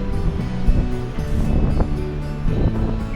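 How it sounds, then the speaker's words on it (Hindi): A crystal-clear mountain stream flows down through a deodar forest in the Niti Valley. It makes a loud, constant rush of water close by, mixed with wind noise, and no one speaks. "क्रिस्टल क्लियर जो पानी का स्रोत है ऊपर से बह के आ रहा है।"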